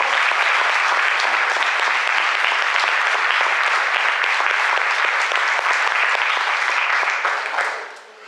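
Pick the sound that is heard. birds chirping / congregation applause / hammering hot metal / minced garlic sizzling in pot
congregation applause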